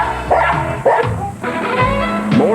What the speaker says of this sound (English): how do you keep the music playing over all the mewing and barking and